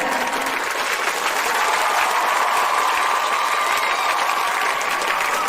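Loud, steady applause from an audience at an event welcoming people in turn, a dense continuous wash of clapping filling the whole stretch with no talk over it.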